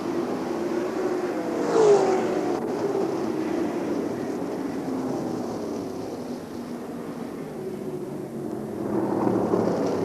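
World of Outlaws sprint cars race around the Eldora Speedway dirt track, a sustained roaring engine drone heard from a distance that swells as cars pass.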